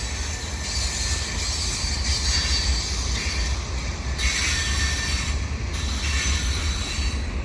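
A CN mixed freight train led by four locomotives rolls past at Ville St Pierre near a highway under reconstruction, a loud steady rumble of railcars with squealing wheels and rail noise throughout, no talking.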